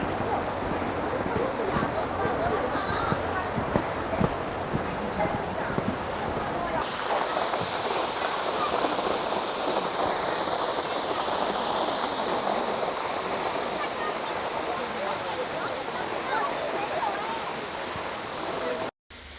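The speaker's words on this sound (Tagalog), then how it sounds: "This Chongbang Waterfalls directly connects to the ocean" Chongbang (Jeongbang) Waterfall on Jeju, South Korea, where the water plunges straight toward the ocean, heard as a steady broadband roar of falling water that continues unbroken for the whole stretch.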